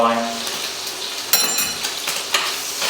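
Bacon and new potatoes fry in a pan for a chicken and potato bake while being stirred, a close sizzling hiss broken by a few scraping clinks of the utensil against the pan.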